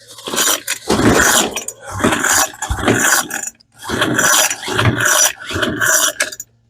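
Old trash-picked Hitachi chainsaw being pull-started at full throttle with the choke on, the engine not firing: five loud ratcheting rasps from the recoil cord in an even rhythm, each followed by a short gap.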